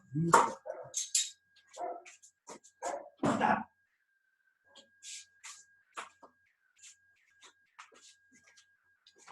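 A dog barks in a burst of loud, close barks, then keeps up fainter, scattered yips and whimpers at irregular intervals, with no other voices over it.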